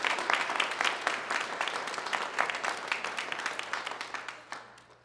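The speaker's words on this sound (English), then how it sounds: "Could you not give a celebratory clap for the Lord and the victory that we have in Christ Jesus?" A church congregation claps together during a service, a quick run of sharp, fairly distant claps that holds steady and then thins out toward the end.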